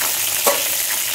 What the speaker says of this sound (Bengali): পটল ভাজা বসিয়ে দিয়েছি।